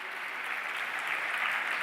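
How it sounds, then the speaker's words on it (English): Audience applause at Bocconi University in Milan, a steady, dense wash of many hands clapping that holds at even strength throughout without any talk. "This is the applause from Milan, Bocconi University."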